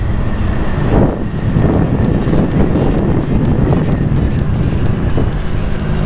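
Strong wind buffets the microphone, a loud continuous roar with gusty surges and low rumbling, no voices.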